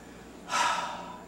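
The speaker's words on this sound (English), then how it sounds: "He was yawning, now I'm yawning." A single breathy yawn from a person, an audible inhalation that swells suddenly partway through and then trails off softly, heard close and alone.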